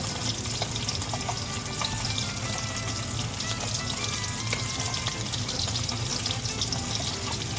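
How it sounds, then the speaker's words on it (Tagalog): Leafy vegetables, stems and leaves, sizzle and fry in a pan while being stirred for a home lunch, a constant crackling hiss with scraping stir sounds, loud and close, no talking. "Ngayon, ito guys, haluin natin."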